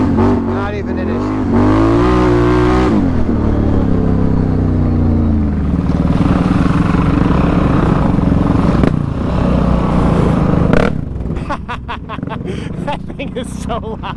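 ATV riding on rough trails, its engine loud and close, revving and accelerating with a rising pitch sweep, then rumbling steadily before easing off; a person speaks over the engine noise.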